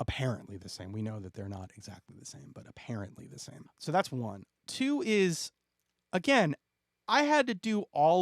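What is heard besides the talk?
No everyday noises stand out.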